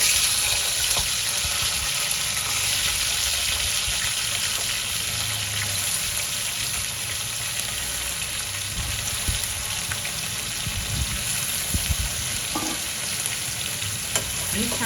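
Potatoes with garlic and curry leaves fry in a pan, a steady close sizzle and crackle running throughout with occasional stirring scrapes, no voices.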